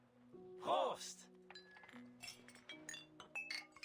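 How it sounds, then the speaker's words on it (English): Metal mugs of beer clink together in a toast in the video game Reverse: 1999, making a bright, glassy ring near the start, followed by softer clinks and tones from the game soundtrack. "The metal cup doesn't sound metal, it sounds glass."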